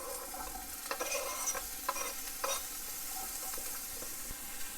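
Chopped vegetables hitting a little hot oil left in a pot over a medium flame, giving a steady soft sizzle with scattered crackles and clinks of stirring, fairly quiet and unbroken.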